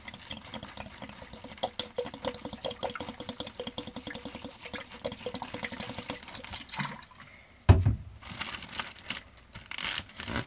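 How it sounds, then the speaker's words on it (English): Water sloshing in an ultralight backwoods washing machine during the rinse cycle, a steady rhythmic churning and splashing up close, followed by a brief clunk and a rougher burst of agitation. "then begins the rinse cycle."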